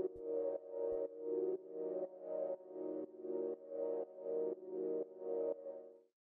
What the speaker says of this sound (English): this is just like a pad that's playing in the background.